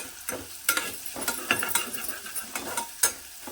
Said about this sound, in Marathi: तेलावर आहे ना कांद्याची आणि लसणाची पात चांगली परतून घेतली ना